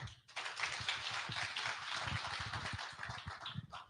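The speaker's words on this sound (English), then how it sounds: "let's give them a clap again" Audience clapping in a hotel event hall, a sustained burst of many hands with distinct individual claps standing out, heard fairly distant and soft, continuing evenly for several seconds.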